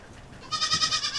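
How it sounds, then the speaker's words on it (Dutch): Dutch landrace goat gives a single short, wavering bleat nearby after a moment of quiet. "Dat zijn de Nederlandse landgeiten"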